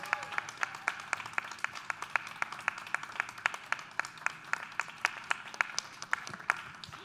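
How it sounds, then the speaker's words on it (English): Applause for the winning team at the AIBC Eurasia 2024 start-up pitch event, with crisp claps landing in an even, rhythmic beat over a soft crowd background for several seconds. "Ladies and gentlemen, I would love you to all make a round of applause for Genesys."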